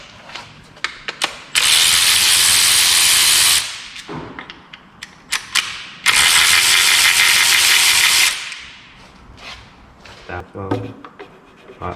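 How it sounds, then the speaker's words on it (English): A socket wrench removes bolts during the strip-down of a VR6 engine from a Mk5 Golf R32. Two sustained, harsh whirring bursts of about two seconds each are separated by clicks, clanks and workshop handling. "I'll just take the other socket off first."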